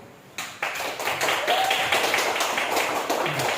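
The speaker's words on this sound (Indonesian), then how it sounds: "Dari kelompok A, beri tepuk tangan dulu" A classroom of students breaks into applause for their group, scattered claps quickly building into steady, lively clapping close by that continues to the end, with voices faintly mixed in.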